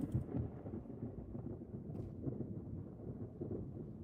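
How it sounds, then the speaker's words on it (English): Thunder from lightning in a Roblox story game, a low, rolling rumble that sustains across the whole stretch with a heavier crack near the start, moderately loud. "never mind, that's just a lightning."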